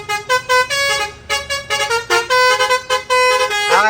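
A loud, close four-foot-long vehicle horn honks repeatedly in a rapid, irregular series of short and longer blasts, with no talking.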